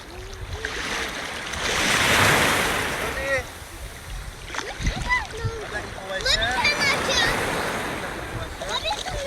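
Sea waves wash and splash at a beach near sunset, a steady watery surge that swells and fades, with children's and adults' voices calling and chattering over it.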